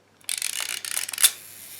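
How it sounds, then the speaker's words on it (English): A 1950s Voigtlander Vito B camera with a faulty Prontor shutter fires, giving a buzzing mechanical whir of about a second that ends in a sharp click, close and clear in a quiet room. "You listen, shutter's going now."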